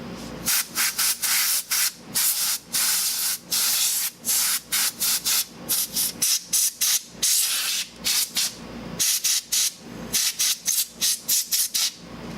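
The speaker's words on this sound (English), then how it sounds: "Okay, compressor air spray." Short bursts of compressed air spraying from a can onto an Acer Predator laptop, a rapid series of loud hissing blasts with brief gaps, close and alone.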